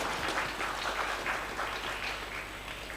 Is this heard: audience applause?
yes